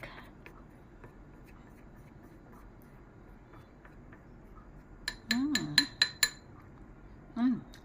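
A barbecue stick stirs a mayonnaise and ketchup dip for french fries, giving a quick burst of small clinking taps against a dish near the end, with a soft scrape before it and a quiet background otherwise.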